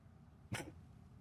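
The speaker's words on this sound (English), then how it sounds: "Excuse me. I had to sneeze." A single short, sharp burst of a person sneezing, faint and brief against a quiet background, alone without talk.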